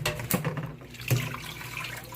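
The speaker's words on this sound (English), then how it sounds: "All right, I'm draining the water off it." Water pours steadily out of a pot of cooked Torborgee as it is drained into a sink, a continuous close splashing rush with a couple of louder gushes.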